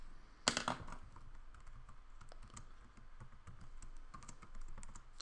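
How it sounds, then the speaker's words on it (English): Fingers tap a computer keyboard in a rapid, steady run of light clicks, close and quiet, opening with a brief louder rustle. "let's type it in and see"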